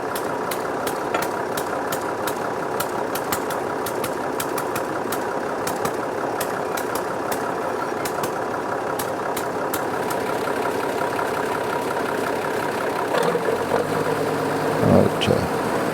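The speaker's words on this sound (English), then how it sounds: "Good up the revs on the old Massey 97. Also hand clutch on these tractors. Gets the saw blade up to speed." Engine of a vintage Massey Ferguson 97 tractor driving a saw blade at a hay and harvest show, a loud steady mechanical chugging drone that shifts in tone near the end as revs change, with a voice talking over it.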